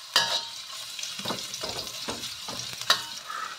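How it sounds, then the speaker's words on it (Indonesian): Shallots and garlic sautéing in hot oil in a wok, a soft steady sizzle broken by several scraping stirs and a couple of sharper clinks of the utensil against the pan, with no voices. "Nah, ini saya tumis bawang merah,"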